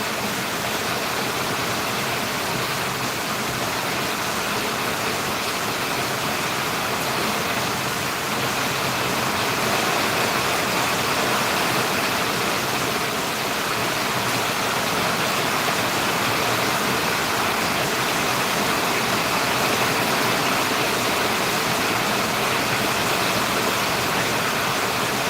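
A heavy downpour during a thunderstorm in Valliyur makes a continuous, loud rushing roar of falling water, unbroken and even for the whole stretch, with no one speaking.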